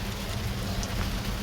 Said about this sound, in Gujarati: અત્યારે ઉપર વરસાદ એક ધારો ચાલુ છે કલાકનો